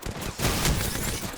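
LMG fire in Apex Legends rattles out in a fast, loud, sustained burst of close shots that runs nearly unbroken.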